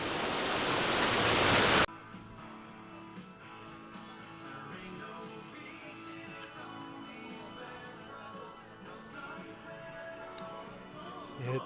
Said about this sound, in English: When you see this nice, cool, refreshing waterfall